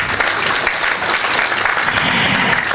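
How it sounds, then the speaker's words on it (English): Dense, loud applause from a gala dinner audience at a cybersecurity awards ceremony, honoring the sponsors in a steady, continuous roar of clapping. "how about giving them a big round of applause to all our sponsors?"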